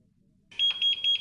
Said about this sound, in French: l'appareil émet un double bip pour indiquer une erreur